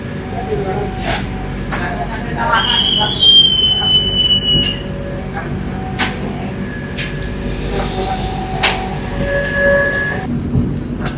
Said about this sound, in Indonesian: Kereta api Pangrango berhenti di stasiun Karangtengah teman-teman